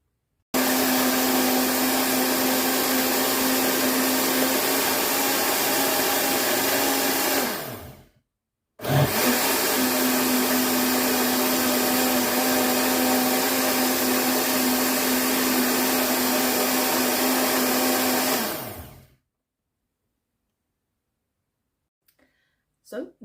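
A blender whirs steadily while making a green smoothie, a loud continuous motor drone that runs for several seconds, stops briefly, then restarts and runs again before cutting off, followed by silence and a faint click.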